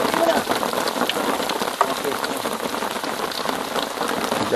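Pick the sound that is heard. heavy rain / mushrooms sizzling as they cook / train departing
heavy rain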